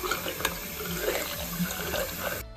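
Hot water running from a household tap after a gas meter is reset following an earthquake, a steady close splashing stream that carries on for the whole stretch and then cuts off abruptly.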